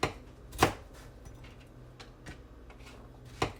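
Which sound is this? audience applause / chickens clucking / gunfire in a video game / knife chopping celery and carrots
knife chopping celery and carrots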